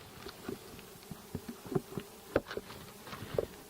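Honeybees buzz around an open hive as frames, workers and a queen from a 5-frame nuc are moved in, a steady faint drone broken by close fly-bys and a few soft knocks of wooden frames and hive parts.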